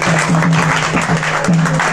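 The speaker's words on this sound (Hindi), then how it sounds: "इसके लिए भी जोरदार से ताली बजाते" Audience at a Krishna devotional gathering in Delhi gives loud, close clapping for a girl who danced, steady dense applause with a low hum running underneath.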